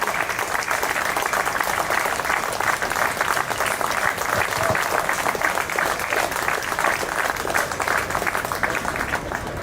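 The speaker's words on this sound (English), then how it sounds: "He deserves a big round of applause." Sustained audience applause at an inaugural ceremony for a zonal outdoor sports meet, a dense, steady wash of many hands clapping at even loudness throughout, with no voices rising above it.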